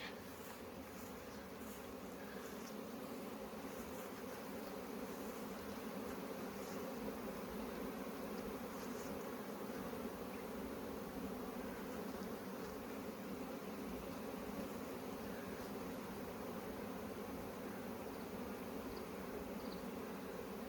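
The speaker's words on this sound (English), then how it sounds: "This is the bad thing about keeping bees." Honey bees buzz around backyard hives in a continuous, even drone of many insects, steady and fairly quiet, with no voices.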